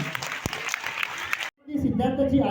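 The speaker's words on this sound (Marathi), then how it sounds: "35 बाल कलाकार जोरदार टाळ्या वाजवून स्वागत करूया." An audience at a children's play in a theatre in Yeola claps to welcome 35 child actors, a dense patter of applause that stops abruptly, after which a voice speaks.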